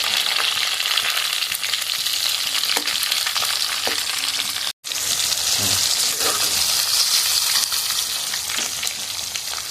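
Chopped tomato fries over onions in a kadai for chicken curry, a loud, steady close sizzle with light stirring and a brief cut partway through.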